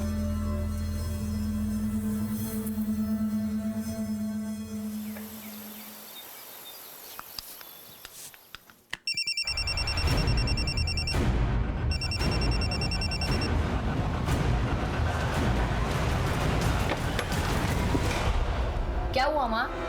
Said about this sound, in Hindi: मुझे यहीं कहीं से मोबाइल की आवाज आई।